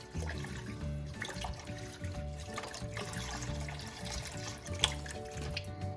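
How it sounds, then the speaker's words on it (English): Beef broth is poured into a pan while making an open-faced roast beef sandwich, a steady liquid splash and trickle running close by and without talk. "Let's add in some more beef broth here."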